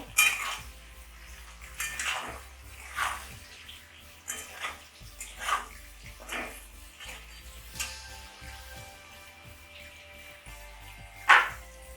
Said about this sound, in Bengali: এবার একটু নেড়ে নেব।